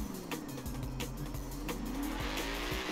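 Forza Horizon 4 car launching off idle and popping a wheelie: loud engine roar with shifting tones and squealing tires over a steady low drone, continuous throughout.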